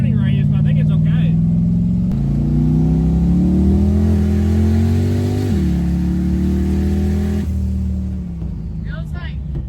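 Twin-turbo big-block Ford Fairmont on a test pull, the engine roaring close by as its pitch climbs in repeated rising sweeps with brief drops between shifts, loud and sustained throughout.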